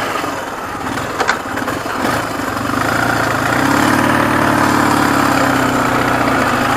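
A motorcycle with a two-cylinder engine, under repair for lack of pulling power, rumbles at close range, then its revs rise and hold at a steady, buzzing drone with no talk.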